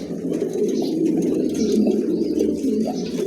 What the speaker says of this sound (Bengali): নতুন কবুতর, একদম খুবই চমৎকার কবুতর জোড়া।